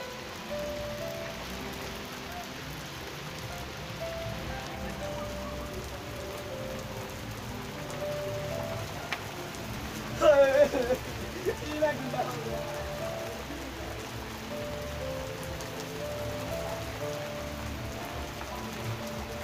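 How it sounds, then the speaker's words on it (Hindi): Heavy rain pours at Banjosa lake near Rawalakot in Azad Kashmir, a dense, continuous hiss of drops on surfaces with a few louder knocks and splashes partway through. "बंजस्तान इस टाइम बारिश हो रही है बहुत तेज़।"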